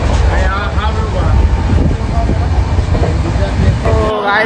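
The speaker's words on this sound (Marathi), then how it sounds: "ही आमची ती ट्रेन ज्याच्यामध्ये आम्ही आलो." A passenger train arriving at Dwarka station after a long overnight journey, with a steady loud rumble and rolling rail noise throughout, a faint continuous high whine above, and people talking underneath.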